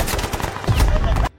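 A close, loud burst of rapid gunfire with dense overlapping cracks and a heavy thump near the middle, cutting off abruptly, as the Abu Sayyaf group shoots Petrov and his guards.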